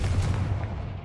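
A Confringo blasting spell explodes in Hogwarts Legacy as one short, deep, booming burst close up, fading quickly with no voices over it.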